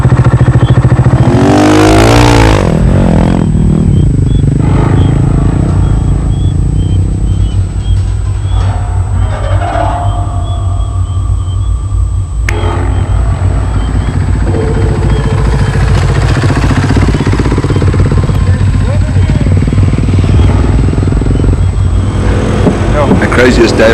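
A rally motorcycle racing in the 2021 Dakar Rally in the dark: a loud, close engine drones steadily throughout, with shifting revs and wind roar, while a rider talks over it.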